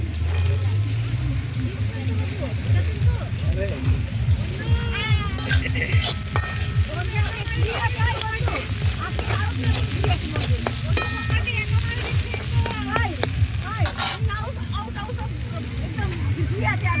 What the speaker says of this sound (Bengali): গোটা গরম মশলা দিলাম, দিয়ে এটাকে সুন্দর করে ফ্রাই করে নিচ্ছি